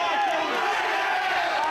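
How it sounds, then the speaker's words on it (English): Wrestling arena crowd in a match between Kenny Omega and Tyler Black, cheering in approval as a hold is applied; a steady, dense roar of many voices holding at one level throughout. "Gets the approval of the crowd"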